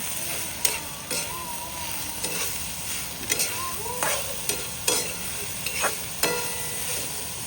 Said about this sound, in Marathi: याला आता चांगलं परतून घेणार आहे